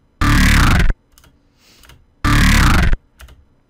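Two loud, distorted electronic vocal-style growl bursts made with the FM8 synthesizer and added effects, each under a second long, separated by a pause with faint low rumbling between them.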